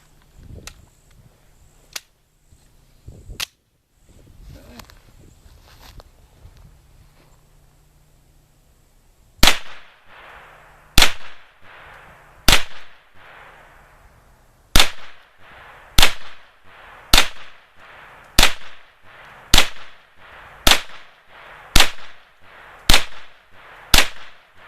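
Gunshots from a Keltec Sub-2000 9mm carbine at an outdoor firing line: about a dozen sharp, loud reports in a steady rhythm, each with a short ringing tail, preceded by a few quieter clicks and handling noises.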